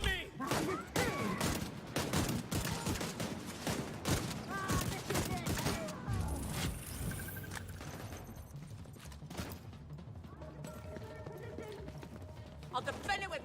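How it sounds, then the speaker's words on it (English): Automatic ACS-12 shotgun fire in The Division 2, a run of loud, rapid blasts with clattering combat noise across the first half, easing into quieter game sounds with a voice talking over it. "I'm gonna test this shotgun."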